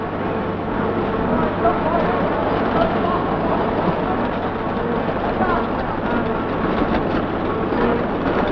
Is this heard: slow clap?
no